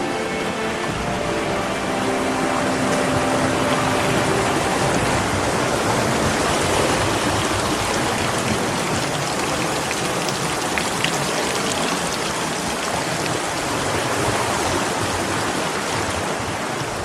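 Water from a hidden stream in Kenya's Taita Taveta area tumbles down rocks into a waterfall, a steady, dense, broadband rush that stays close and constant throughout with no voices.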